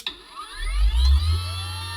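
A LEADER PRO brushless grass trimmer motor spins up with no blade fitted, giving a loud, steady high-pitched whine with rising tones that settle into a constant drone close by.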